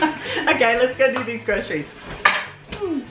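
Dishes, pots and cutlery clatter in a kitchen while dinner is being cooked, with short clinks and scrapes coming through in the background under a woman's nearby speech.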